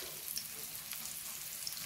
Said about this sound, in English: Just gonna fry this lightly until it changes colour slightly and softens a little bit as well